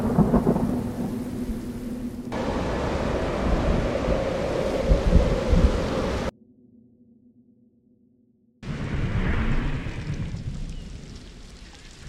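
Thunderstorm in Jurassic World Evolution, with heavy rolling thunder and steady rain and wind, a sudden near-silent gap, then another loud rumbling burst that slowly eases off.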